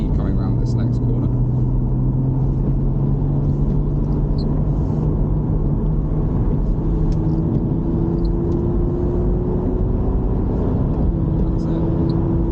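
A Porsche Cayman engine drones steadily on the Thruxton race track, its pitch climbing gradually under acceleration, heard loud and continuous from inside the car while an instructor talks over it.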